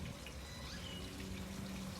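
Water trickles steadily from the shower caps inside a Tower Garden growing tower, a soft continuous splashing and dribbling that stays fairly quiet, with no speech.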